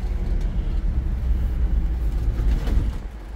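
Engine of a 1969 Ford F100 Farm & Ranch Special pickup with three-on-the-tree manual while driving, a close low rumble that rises and falls with throttle, alone with no talk.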